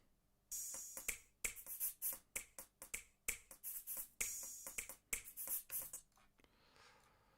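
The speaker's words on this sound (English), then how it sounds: "And then we have the high percussion." High percussion layer from an electronic music mix, crisp snap-like hits in a quick syncopated pattern, bright and dry, repeating for several seconds before cutting off to a faint tail.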